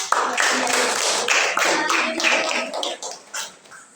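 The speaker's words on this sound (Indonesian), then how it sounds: "Ya, tepuk tangan." Clapping from a classroom group after a student presentation, a close burst of many hands that starts sharply, stays lively and then thins and fades toward the end, with faint voices mixed in.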